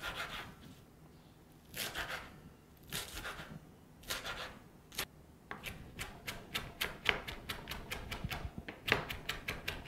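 A knife chops fresh parsley on a cutting board for salad dressing, first in slow separate strokes, then in a fast, even run of crisp taps close to the listener.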